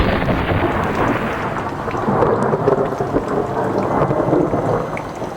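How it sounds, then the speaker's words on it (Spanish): Thunder rolls and rumbles through a heavy thunderstorm, loud and sustained, with rain pouring steadily underneath and no voices. "el trueno sonó nuevamente"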